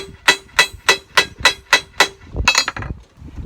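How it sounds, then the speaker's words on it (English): Body hammer flattening metal on the back side of a homemade chicken restraining cone: seven sharp, evenly spaced ringing strikes, close and loud, then a brief scuffle of handling noise. "I'm just taking my body hammer and just flatten them off on the back side."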